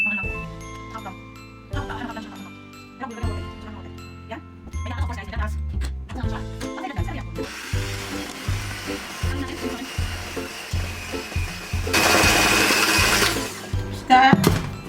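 Banana cake batter mixed with egg: talk over soft clatter at first, then a steady, fairly loud whirring churn through the second half, louder in a late stretch.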